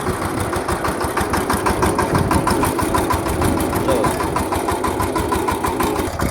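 A power tiller engine runs steadily with a rhythmic mid-pitched throb, close and loud throughout, its lever held at medium throttle on a farm among mango saplings.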